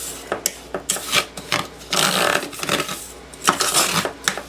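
Cheesecake crust crumbs mixed with melted butter give a close, gritty scraping and rubbing in short irregular strokes, with soft clinks against the bowl.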